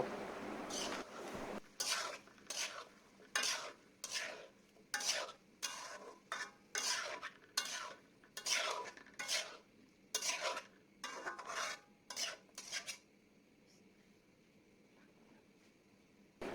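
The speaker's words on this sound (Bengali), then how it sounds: "এখন কেটে রাখা আলু দিয়ে দিব মাংস এবং আলু ভালোভাবে কষিয়ে নেব" A spoon scrapes rhythmically through spicy chicken skin curry with potatoes in a pan, with steady, close strokes and a soft sizzle under them for about thirteen seconds before the stirring stops and only a faint frying hiss remains.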